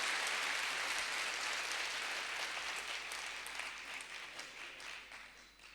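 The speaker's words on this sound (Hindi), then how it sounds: "एक बार पहली बार आने की जोरदार तालियां मुझे दे दीजिए।" A poetry-recital audience in Bhubaneswar breaks into loud, dense applause, a sustained roar of many hands clapping at once that gradually thins and fades toward the end.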